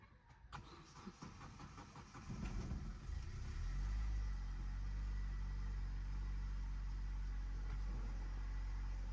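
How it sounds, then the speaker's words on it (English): An Opel Corsa's engine cranks for a couple of seconds, catches, and settles into a low, steady idle hum that continues to the end. "I'm gonna try to start the car so we can go for a test drive."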